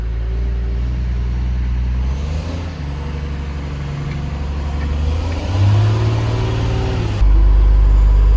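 A farm loading shovel's diesel engine running and pulling away, a steady low drone that rises in pitch as it revs and gets louder near the end, with no talk over it.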